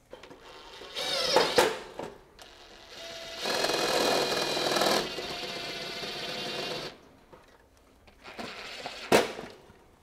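Power drill boring new mounting holes while installing a universal heat pump defrost board, with a short whining burst, a longer run of several seconds, then another brief burst, all fairly close.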